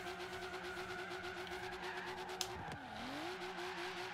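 Sports car in Forza Horizon 3 held at a steady high-revving engine drone, then a sharp pitch drop and brief tire noise as it turns, followed by the revs climbing again, moderately quiet throughout with no talk.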